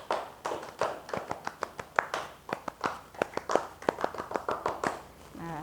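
A scout group claps in a quick rhythmic pattern, sharp repeated hand claps in bursts with short pauses, fairly close and steady throughout.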